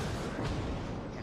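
Naval guns fire in a World of Warships match, a single heavy booming blast that rolls out and fades over about a second, with a player's voice faintly underneath.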